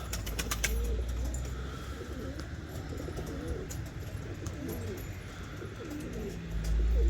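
Turkish breed pigeons coo in soft, rolling phrases close by on a rooftop, repeating steadily over a low outdoor rumble, with a brief burst of wing flutter at the start.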